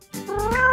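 A cat meows in a single rising, drawn-out call, close and fairly loud, set in a child's play scene with a toy kitchen; no talk over it.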